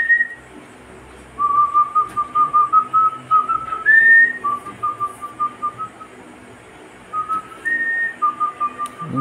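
A person whistles a tune in bursts of short and held notes, loud and close, with brief pauses between phrases.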